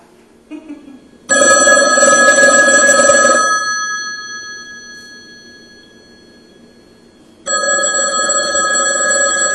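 A telephone rings loudly with a bright electronic trill. It plays for a couple of seconds, fades, then starts again.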